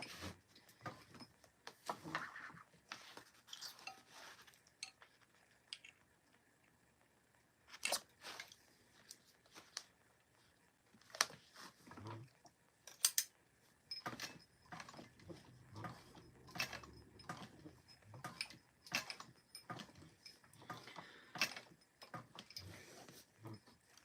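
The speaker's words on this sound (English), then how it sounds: "doing applique on this machine is not, I mean, it's doable" A small budget Brother sewing machine stitching appliqué onto fabric: bursts of rapid mechanical whirring and clattering start and stop irregularly, separated by quiet pauses, close up and fairly quiet.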